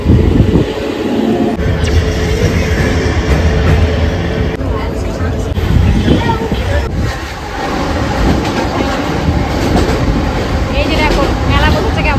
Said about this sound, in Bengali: ট্রেন চলে এলো